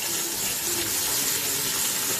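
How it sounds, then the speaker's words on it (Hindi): Chopped onions go into a hot pan for mutton yakhni pulao, giving a steady, loud, dense sizzling hiss that holds without a break. "अब इसमें हम प्याज डाल देंगे कटी हुई"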